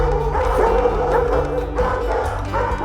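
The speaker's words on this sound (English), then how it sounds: "give Kim relief from the dogs barking at every delivery" Several dogs bark at a house during a delivery, loud, close and continuous, with overlapping deep woofs and higher yips running throughout without pause.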